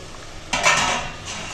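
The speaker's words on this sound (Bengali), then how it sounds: "এখানে এই নুন হলুদ মাখানো ইলিশ মাছ দিয়ে দিলাম" Salted, turmeric-rubbed hilsa fish slid into a pot of boiling broth, a brief clatter of metal and a soft splash followed by bubbling hiss, close and alone.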